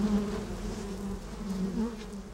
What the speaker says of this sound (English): That's a bee going back to the hive.